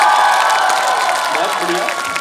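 Audience at a Hindi comic poetry show clapping and cheering, a dense, steady burst of applause from a crowd that fades slightly toward the end.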